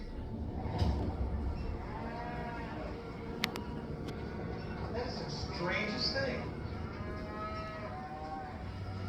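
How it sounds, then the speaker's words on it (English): Cows moo a few times in drawn-out calls over outdoor background noise, with a person speaking briefly in between. "Look at the cows."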